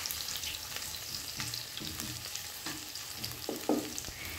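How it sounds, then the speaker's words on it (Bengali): Chopped garlic sizzling in hot oil in a pan, with intermittent scraping stirs of a spatula over a steady frying hiss, close and moderately loud, no talking. "প্রথমে রসুনগুলোকে হালকা একটু নেড়েচেড়ে নিতে হবে।"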